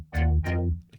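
Two short synth notes processed through a vocoder, each a buzzing, voice-like harmonic tone with a deep bass body, played one after another and then cut off.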